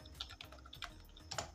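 Someone types on a computer keyboard while entering product names into an invoice spreadsheet: a quiet, close patter of irregular key clicks.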